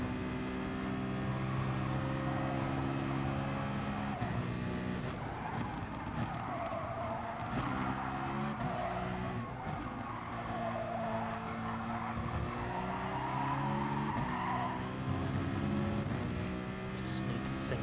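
Race cars in a racing video game, Nations Cup 2021 round with a Citroen against a field of GT-Rs, engines droning continuously while struggling tyres squeal and skid through corners, with a voice talking over parts of it.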